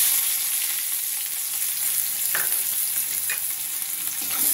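Chopped onion and black cumin fry in oil in a kadai, a steady close sizzle with a few scraping stirs, no voices.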